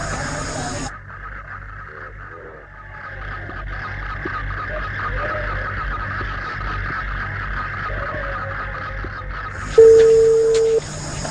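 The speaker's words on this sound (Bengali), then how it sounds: "তুই সোনাকে ফোন দে। হ্যাঁ দিচ্ছি।" A mobile phone call being placed, with a steady hissy line tone and a single clear electronic beep near the end, under faint background noise.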